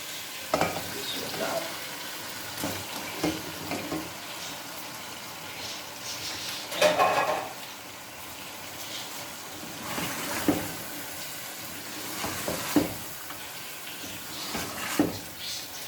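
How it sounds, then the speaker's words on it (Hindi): Chicken frying with masala in a pan for an aloo chicken curry, a loud sizzle broken by repeated stirring scrapes and spatula knocks, with one louder burst of frying in the middle. "अब मैं इसमें चिकन डालूंगी और चिकन को फ्राई करूंगी।"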